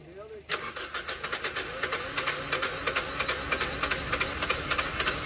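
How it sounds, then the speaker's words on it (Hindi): A car engine cranks over and over in a steady, rhythmic churn without catching, heard close up, with a voice speaking briefly. "आज स्टार्ट ही नहीं हो रही"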